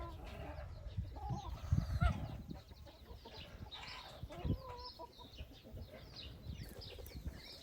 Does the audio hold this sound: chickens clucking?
yes